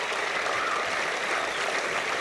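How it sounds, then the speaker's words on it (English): Steady, dense applause from a crowd fills the whole clip at a constant level, with no voices breaking through. "please, give them a big clap"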